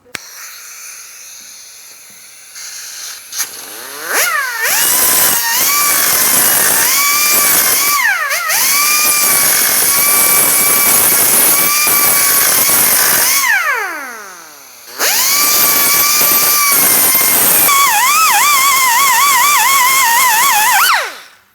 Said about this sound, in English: using my cutting wheel